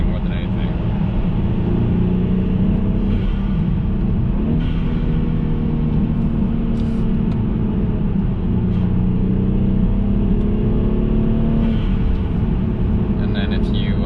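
A BMW 328i F30 with the N20 engine and an Injen aftermarket air intake, rumbling steadily up close as the throttle is blipped on and off, its pitch rising and falling over a continuous droning base.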